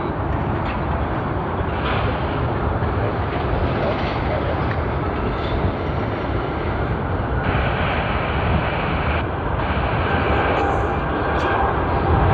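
An Air New Zealand Airbus A321 departs Sydney Airport with a loud, continuous jet engine roar that holds steady for the whole stretch, and a voice talks faintly over it.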